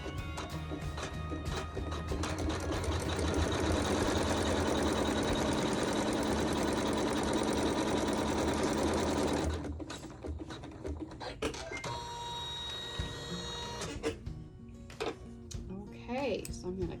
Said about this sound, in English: let's sew our seam